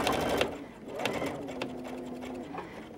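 A sewing machine stitches a pillow in short, fast mechanical bursts with brief pauses between runs, close and fairly quiet, accompanied by faint background handling sounds.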